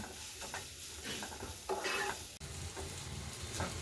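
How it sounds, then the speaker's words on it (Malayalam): Onions with garlic and a little ginger sautéing in a pan for paneer masala, a steady close sizzle with scraping stir strokes, one sharp clack near the middle, no voices. "ഇത് ഇത്രയും കൂടെ ഒന്ന് വഴറ്റിയെടുക്കണം നമുക്ക് ഉള്ളി ചെറുതായിട്ടൊന്ന് വാടി വരണം"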